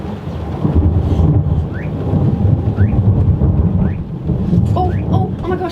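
Thunder rumbles low and heavy during a storm in New Zealand, with steady rain hissing on surfaces throughout and several faint higher crackles.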